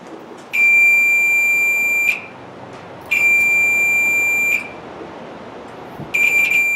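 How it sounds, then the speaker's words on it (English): Three sustained electronic beeps from a multimeter continuity test on an electric dryer thermostat, each a piercing steady tone lasting one to two seconds, separated by brief quiet gaps. "So you can see this one beeps and it's good"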